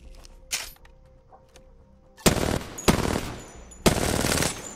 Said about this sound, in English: I love the sound of these weapons, eh?